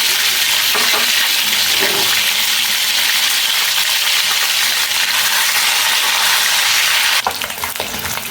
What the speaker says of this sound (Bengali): সবগুলো ডিম আমি নেড়ে চেড়ে হালকা করে ভেজে নেব